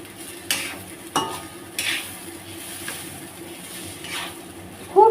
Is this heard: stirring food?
yes